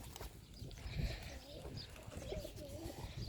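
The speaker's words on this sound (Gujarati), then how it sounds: "આપણા કબૂતરા ઉતરી ગયા છે" Pigeons cooing softly after landing, low rounded coos repeating over faint outdoor background noise, moderately close.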